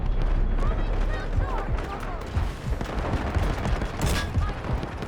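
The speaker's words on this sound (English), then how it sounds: "Artillery barrage incoming." Artillery barrage in the video game Delta Force: dense, overlapping booms and gunfire crackle continuously for about five seconds, loud and rumbling, with a player's voice talking over the blasts.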